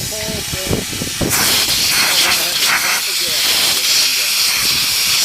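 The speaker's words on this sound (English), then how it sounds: "Now the last thing is putting compressed air in here, trying to get the whole thing." Compressed air blasts through a motorcycle fuel tank on a Ninja restoration, starting after a moment of background voice and then a loud, continuous hiss that rushes on steadily to the end.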